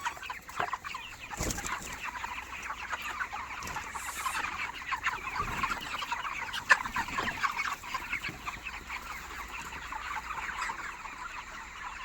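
Chickens clucking steadily at a poultry farm, a dense, continuous flock chatter with occasional sharper calls standing out, fairly close and with no voices.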